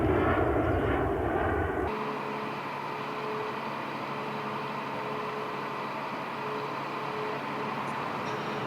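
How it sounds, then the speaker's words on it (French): Airbus A380 prototype jet engines spool up with a broad, steady roar and whining tone, heard from a distance and sustained throughout after a brief rumbling start. "Il va remettre les gaz, tu vas voir."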